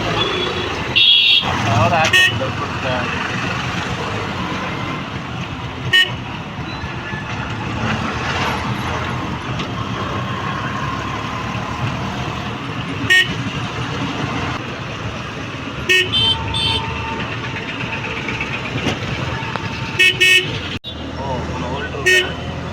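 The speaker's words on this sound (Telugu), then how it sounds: "చాలా ట్రాఫిక్ ఉంది కదన్నా" Heavy road traffic near the Krishna Barrage road in Vijayawada, a continuous engine drone with repeated sharp horn toots scattered throughout. Someone talks over the din.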